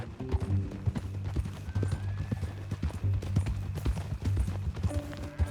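Horse hooves clip-clopping in the Red Dead Redemption 2 video game, a steady run of close hoof strikes under low background sound and faint tonal music.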